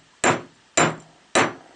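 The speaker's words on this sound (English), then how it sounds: "I'm trying to keep the head of my hammer right on top of that guy" Three sharp, evenly spaced hammer blows strike a copper wire rivet being set flat in metal jewelry making, each a loud, clean metallic tap with a short ring, with no talking.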